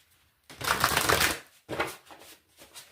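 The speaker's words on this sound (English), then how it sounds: "One more shuffle." Tarot cards being shuffled up close in two bursts, a long riffling stretch followed by a shorter one, with no talking over them.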